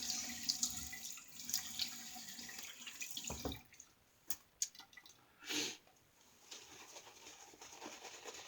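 A Clauss automatic razor from about 1905–1910 is rinsed under a running tap, with faint water splashing and dripping. A few louder splashes and clinks break up the quiet, and birds can be heard faintly in the background.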